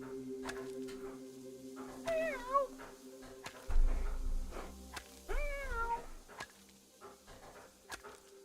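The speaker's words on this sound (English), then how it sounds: "Oh, I hear cat." A cat meows twice, loud, drawn-out rising and falling cries, with soft panting and faint background noise between them.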